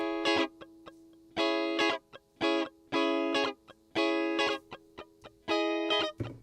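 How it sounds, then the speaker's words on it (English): Funky guitar chords played through an amp simulator with chorus and reverb, short rhythmic chord stabs in a syncopated pattern with brief gaps, clear and close, no voices. "in the other track there are some funky chords playing like that."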